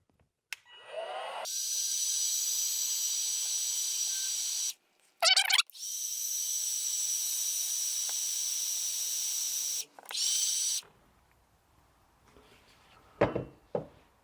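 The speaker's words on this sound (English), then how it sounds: "I'm going to use my Cobalt 24-volt heat gun to heat up the heat shrink tubing one at a time" A Cobalt 24-volt cordless heat gun blows hot air over heat shrink tubing while a Dancing Rudolph reindeer toy is being repaired, with two long, steady, close hissing runs and a short burst between them, then quiet handling noises.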